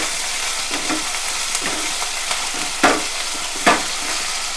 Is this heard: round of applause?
no